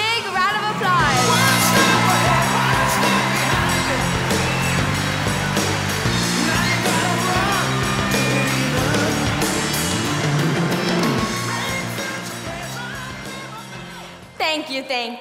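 Convocation audience cheering and applauding a speaker's entrance, loud whoops and yells from a large crowd over clapping, with music playing beneath, the noise easing off toward the end.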